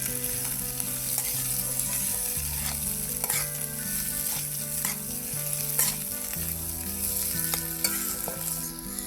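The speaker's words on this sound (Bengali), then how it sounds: "সবজিগুলো ভাজা ভাজা হয়ে গেছে।" Carrots, beans and mixed vegetables fry in a pan with a steady, close sizzle and occasional stirring scrapes, under a continuous background music track.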